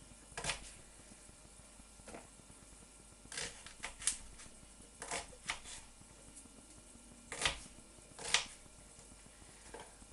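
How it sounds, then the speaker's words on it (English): An onion being chopped on a board while making pasta sauce, a series of sharp knife taps in irregular clusters, fairly close and fairly quiet, without speech. "chop the onion."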